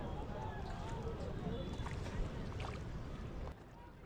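Steady wash of water and wind around a small metal rowing boat moving along the Tam Coc River between rice paddies, with faint scattered creaks and splashes, fairly close, no clear talking.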